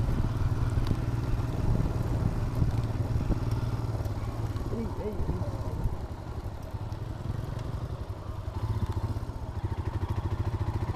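Scram motorcycles ride off-road along a backwater colony area, a steady engine drone with rough clattering running loud and close the whole time, with voices talking over it.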